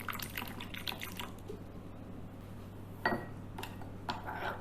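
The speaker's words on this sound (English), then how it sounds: "Add in a tiny bit of water" A small amount of water added to garam masala, turmeric and red chili powders in a bowl to make a paste, heard as a faint trickle and drips with light clinks of utensils against the dish.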